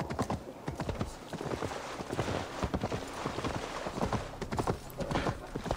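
Horse hooves clip-clop steadily at a trot in Assassin's Creed Valhalla during the Siege of Paris, a dense rhythmic run of close, clear hoofbeats with no talk over them.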